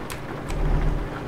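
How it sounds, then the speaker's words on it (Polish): Rain falls at night in Euro Truck Simulator, a steady hiss of drops with a low rumble underneath and a couple of brief splashy bursts, heard alone without talk. "O, nie tylko, że noc, ale jeszcze pada"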